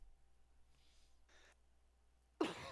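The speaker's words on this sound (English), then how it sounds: "Wow, fucking cough." A single sharp, close cough bursts out at the end after near silence, loud against the quiet room.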